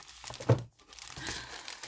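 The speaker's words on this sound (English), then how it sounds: "That should be the only crinkle plastic" Crinkly plastic packaging rustles and crunches in close, short handling bursts with a brief pause in between. No one speaks.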